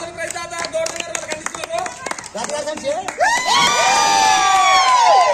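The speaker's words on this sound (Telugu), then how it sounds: "చప్పట్లు చప్పట్లు" Crowd at a cricket cup victory celebration in Rajoli: clapping and cheering with children shouting and voices, loud and dense throughout, swelling into sustained whoops toward the end.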